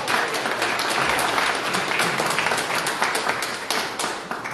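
A concert audience at a Valentine's show in a municipal culture house gives a steady round of applause, dense overlapping claps continuing evenly throughout, with no talk.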